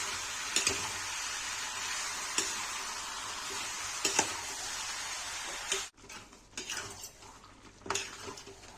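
Chicken cooking in leftover marinade paste thickened with flour for Kashmiri chilli chicken, a steady close sizzle with sharp utensil scrapes and stirring clicks, quieting partway through as the pan settles into softer bubbling and scraping.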